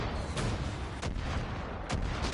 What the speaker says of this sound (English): That guy still hasn't stopped firing the mortar.